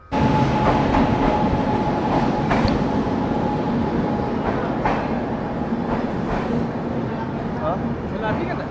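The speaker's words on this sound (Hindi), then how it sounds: "फाइनली अपनी ट्रेन आ गई, राजधानी एक्सप्रेस, इंडिया की फास्टेस्ट ट्रेन में से एक" A Rajdhani Express train rumbles into an Indian station, a loud continuous roar of wheels and carriages with rhythmic clatter and faint squeals, while people talk over it.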